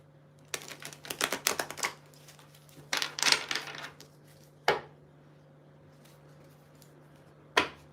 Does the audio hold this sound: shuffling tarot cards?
yes